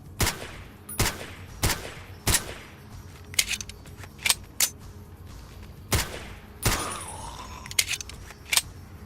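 Gunfire from enemies in the video game Fallout D.U.S.T.: a string of sharp, loud shots spaced irregularly over several seconds, some in quick clusters, with no talk over them.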